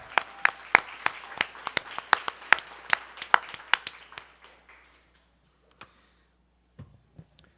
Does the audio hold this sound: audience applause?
yes